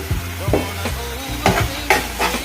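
Mint masala with turmeric and salt fries in a pan, sizzling up close under repeated spoon scrapes and stirring knocks that come in irregular bursts, with no voices.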